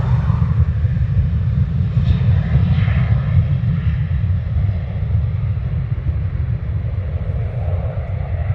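An SAS airliner departing Dublin Airport, its jet engines a broad, steady roar held at moderate distance, with light wind buffeting the microphone.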